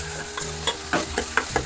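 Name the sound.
sautéing ground coconut, cumin and onion in a pan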